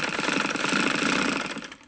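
Sewing machine sewing elastic onto a trouser waistband, a continuous fast mechanical whir of stitching up close that slows and fades out near the end.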